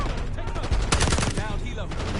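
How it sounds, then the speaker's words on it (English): Heavy gunfire during a helicopter fight in the Call of Duty Black Ops 6 campaign crackles in rapid bursts over a constant loud battle din, with voices calling out through the chaos. "We're taking heavy fire at the helo."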